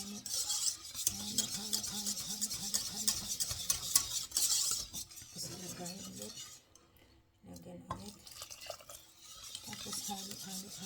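A spoon scrapes and clinks around a pot while a creamy, soup-like dish is stirred during a home dinner cook, in rhythmic repeated strokes with a short pause, as a voice chants along over the stirring.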